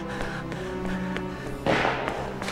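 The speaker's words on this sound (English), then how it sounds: "A gunshot!" A gunshot in the Valkyria Chronicles video game on PC, a sharp burst landing partway through amid game music and ambience, followed by a few fainter taps.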